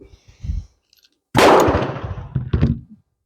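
A shot from a surplus .32 caliber Beretta pistol, a loud close crack with a ringing tail, followed by sharp metallic clinks, after a few quiet clicks of handling.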